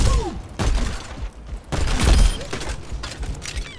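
Junkrat's mine and grenade thrown in the video game Overwatch, with bursts of thumping explosive impacts and clattering mechanical game effects spread across a few seconds.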